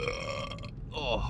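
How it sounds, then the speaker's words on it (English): A loud, deep burp rumbles out from a man who has just eaten six eggs, a single drawn-out belch that holds close to the mic before a short spoken exclamation. "that was a burp from the deepest part of my internal system"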